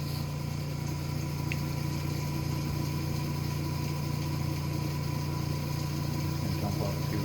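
A Cee 200XD engine idles at 1,000 RPM with a steady, even low hum and faint mechanical whir that holds level for several seconds.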